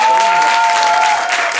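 Applause from an improv festival audience in Paris, a dense wash of clapping that holds steady and loud, then thins slightly toward the end, with a sustained tone running beneath it.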